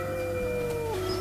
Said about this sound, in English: Howling, first as an experiment, Jim found to his surprise that the pack often responded.